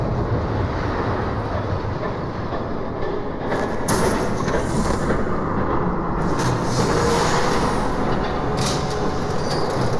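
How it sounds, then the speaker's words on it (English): A train passing by in the video game Batman: The Telltale Series, a continuous heavy rumble of wheels on rails with brief brighter squeals and clatter, steady and loud throughout. "There's a train coming."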